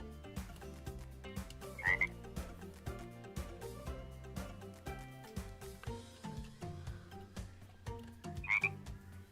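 Frogs croak in a Minecraft zoo mod, with two distinct croaks standing out clearly over steady game music and ambient sound, no talking.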